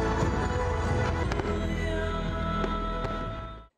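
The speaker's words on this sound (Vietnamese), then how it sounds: "Mình nhìn những cái pháo hoa họ đốt đó" Fireworks going off during the final night of an international fireworks festival, a dense continuous roar of crackling bursts with a few sharper booms standing out, loud and steady before cutting off.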